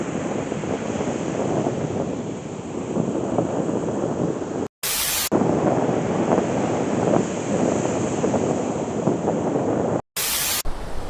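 Strong wind roars over the microphone on St. Joe Beach, with surf washing underneath in a loud, constant rush, broken twice by brief dropouts and bursts of noise.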